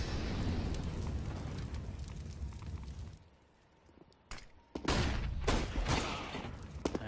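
Gunfire in a professional Counter-Strike: Global Offensive match on the Train map, with loud dense game audio, a brief lull, then several sharp, powerful shots and bursts in close succession.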